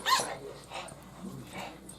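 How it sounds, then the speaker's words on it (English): A small, debarked dog gives a hoarse, muffled bark near the start, followed by softer whimpering yelps and grumbles at close range. "That is a cute little bark, Jessie."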